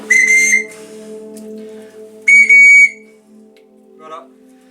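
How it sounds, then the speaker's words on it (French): A small handmade whistle turned from pine cones and resin gives two loud, shrill blasts with a short gap between them, then a faint trailing note. "ça fait des petits sifflets assez sympathiques aussi"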